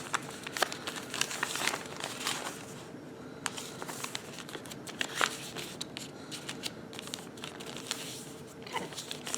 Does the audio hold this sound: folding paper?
yes